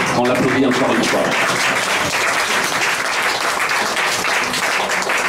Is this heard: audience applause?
yes